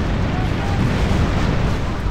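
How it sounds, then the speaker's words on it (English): Loud, dense roaring blast from cannon shots fired aboard a pirate ship in the video game Tempest, a continuous booming burst filling the short moment. "we are almost out of these cannon shots too"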